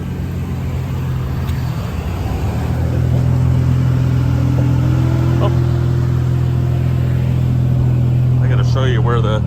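A 1999 Plymouth Prowler hot rod with original miles starts and settles into a steady, loud idle, its low engine drone rising after about two seconds and holding, with faint voices near the end.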